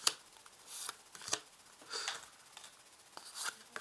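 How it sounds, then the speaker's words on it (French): A deck of tarot cards is cut in two and laid out card by card, giving soft, faint papery slides and snaps with short pauses between them. "On coupe en deux. Et on place les cartes."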